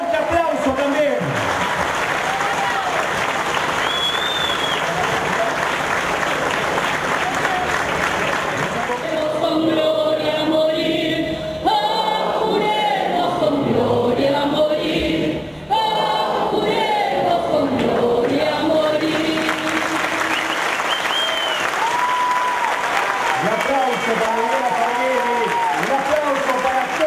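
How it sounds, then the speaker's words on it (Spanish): A crowd at a national native seed fair applauds the Minister of Agriculture, Livestock and Fisheries. Long, steady clapping with cheering runs throughout, while voices and other harmonic sounds rise above it. "a quien le damos un fuerte aplauso también"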